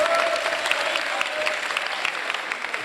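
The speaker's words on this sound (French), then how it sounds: "Encore applaudissez un peu Kale Wad, s'il vous plaît." An audience applauds steadily at a press gathering, a dense wash of claps with a few sharper individual claps standing out, sustained and fairly close throughout.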